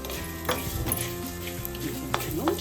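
Frying in a little oil while a spoon stirs and scrapes the pan during preparation of nuvvula karam, a sesame spice powder; a steady soft sizzle runs throughout with a few sharp metallic scrapes near the end.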